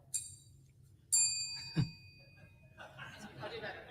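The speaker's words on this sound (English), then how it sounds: "The candidates will hear a warning bell." A bright warning bell at a candidate forum dings twice with ringing overtones, then a soft thump and light murmuring or chuckling in the background.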